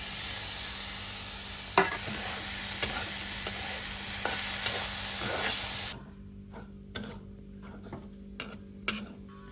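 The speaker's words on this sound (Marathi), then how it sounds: "खोबरं पण ना कांदा कांदा तर आता टॉमॅटो सगळं एकत्रच भाजून घेते" Coconut, onion and tomato roasting together in a pan: a dense close sizzle with a few stirring taps, which cuts off abruptly, leaving quiet scattered clicks and scrapes of the utensil.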